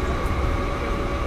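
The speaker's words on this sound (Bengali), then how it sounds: "তো ট্রেন কিন্তু এই মুহূর্তে দেখতেই পারলে যে মৌরিগ্রাম নামে একটা স্টেশনে" A local train on the Howrah to Digha line is arriving at Mourigram station. A loud, dense rumble of wheels and carriages fills the short stretch, with no talking.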